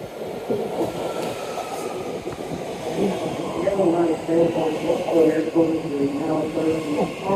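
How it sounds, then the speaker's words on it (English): A BART subway train on the yellow line to San Francisco rumbles and clatters steadily along the tracks, with rhythmic wheel clicks and a rising roar, heard from inside the carriage. "This is a yellow line train to San Francisco"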